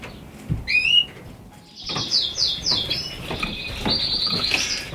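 Several sharp bird chirps and whistled calls ring out close by over light rustling and soft fluttering, a busy indoor aviary atmosphere in a bird shed with a self-green Border canary cock bird.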